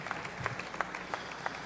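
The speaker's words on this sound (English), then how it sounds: "Please clap a hand of applause for this gentleman." Sparse, light applause from a small audience greeting a gentleman invited up on stage: scattered individual claps rather than a dense ovation, fairly quiet and brief.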